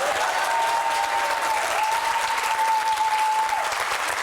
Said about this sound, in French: Et là, les gens applaudissent à tout rond.